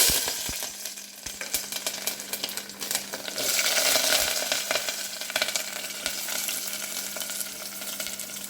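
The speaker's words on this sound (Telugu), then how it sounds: "ఈ ఉల్లిగడ్డ పచ్చిమిర్చి ఫ్రై అవుతున్నాయి" Onions and green chillies sizzle in hot oil with a steady crackling hiss, loudest in the middle, while scattered clicks and stirring knocks come from nearby with no talk.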